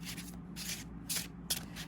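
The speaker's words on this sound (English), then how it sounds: "Here I shuffle until it feels right. And then I overhand typically" Tarot cards being overhand shuffled by hand, a few soft riffling bursts with short pauses between them, quiet and close.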